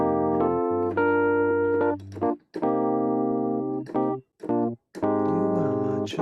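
Keyboard plays the extended-chord breakdown of a song: sustained rich chords over a held low bass, in several phrases separated by short staccato stabs and brief silences, clear and close.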